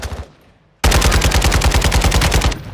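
Video game gunfire: a brief lead-in, then a loud, close automatic burst of rapid, evenly spaced shots lasting nearly two seconds before cutting off.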